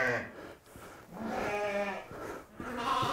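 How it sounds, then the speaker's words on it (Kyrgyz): Tajik Hissar sheep bleat on a farm in Aravan district, several close, wavering cries in succession, loud and near. "Анан булар эми туутка келген койлор."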